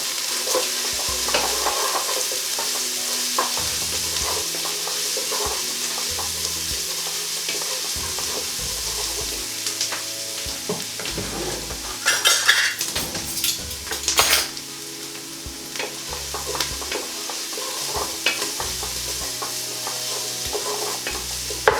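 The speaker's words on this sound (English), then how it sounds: "Okay, so we're going to give that a good stir" A spoon stirs ginger and a curry base in a hot pan for a sweet potato, chickpea and spinach curry, with continuous close sizzling, repeated scraping and clinks of utensil against pan, and a busier burst of clatter midway.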